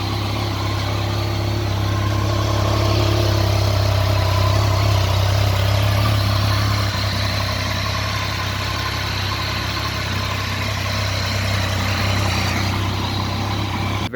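A 2015 Yamaha FZ-09 motorcycle with about 8,000 miles and tasteful mods, its engine running at a steady, loud, close idle throughout with an even low rumble and no voices.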